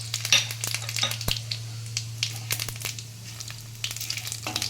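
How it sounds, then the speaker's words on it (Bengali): Cumin, whole garam masala, a black cardamom, dry red chillies and bay leaf tempering in hot oil for a rohu fish-bone chorchori, a busy crackle of sharp pops and spatters over a steady low hum, close and lively. "আমি ওই তেলের মধ্যে ফোড়ন দিয়ে দিচ্ছি জিরে আর গোটা গরম মশলা, একটা বড় এলাচ আর শুকনো লঙ্কা, তেজপাতা"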